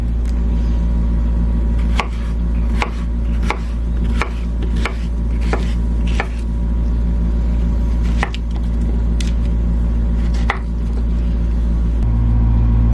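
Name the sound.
blender blending ingredients for shrimp couscous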